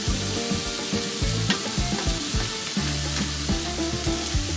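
Vegetables piled up and cooking on a grill alongside lamb chops, a loud close sizzle and crackle with repeated scraping and shifting sounds, no speech.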